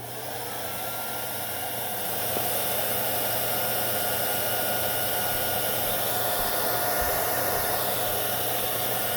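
A Hoover S3341 Constellation vacuum cleaner runs steadily through its hose, a continuous loud rushing airflow roar with a steady motor hum that grows slightly louder after about two seconds and then holds level to the end.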